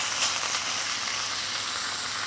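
A ribeye steak sears in a very hot oiled cast iron pan, giving a steady, close broadband sizzle that holds evenly throughout with no talking.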